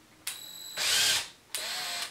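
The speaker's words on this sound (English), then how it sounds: "next thing I will do is I will start by pre-drilling" A power drill pre-drills holes into a window frame for mounting a Roman shade board, with three bursts of whirring, the middle one louder and more strained, heard alone with no talk.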